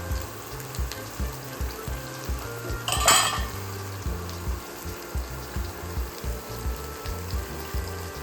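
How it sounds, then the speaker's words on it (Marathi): Onion and tomato sauté in a pan for kala chana curry, with a steady sizzle under repeated rhythmic scrapes and knocks of a spoon against the pan, one louder clatter near the middle. "तर कांदा टॅमॅटो सुद्धा एकीकडे परतून झालेलं आहे"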